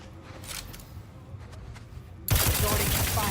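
Gunfire from a weapon in the video game The Outer Worlds 2, starting abruptly partway through as a loud, sustained burst of rapid shots over a quieter game background.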